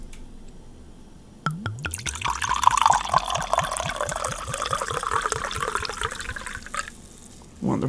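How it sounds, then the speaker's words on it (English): A drink pours into a glass with a loud, rapid rhythmic glugging and splashing that lasts several seconds, then stops abruptly. "Put your volume up. It's time for the pour."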